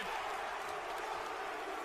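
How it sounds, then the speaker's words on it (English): A large esports event crowd roars continuously, chanting a player's name in a dense, steady wall of voices. "they're not booing, they're yelling Bruce"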